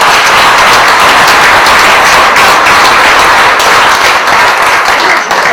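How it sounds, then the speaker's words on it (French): Loud, dense, continuous applause from an audience at an evening event honouring middle-school pupils, a steady wash of many hands clapping close by with no talk over it. "on peut les applaudir"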